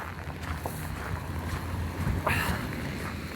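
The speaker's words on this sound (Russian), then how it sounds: "Вот видите, у нас ветер дует" A westerly wind blows outdoors in Yakutsk, rushing steadily over the microphone with a low, buffeting rumble; no voices are heard.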